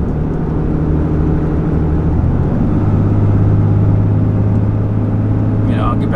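A pickup truck towing a trailer on the highway gives a loud, steady engine drone and road rumble, with the engine note dropping partway through as it settles into a higher gear.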